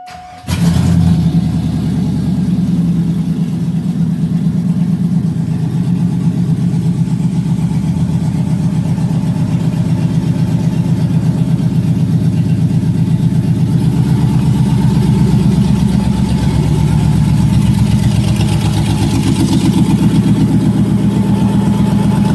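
A GMC Yukon engine cranks and catches, then runs loud and close with a steady low idle and gentle rises in revs, continuing for a long stretch without speech.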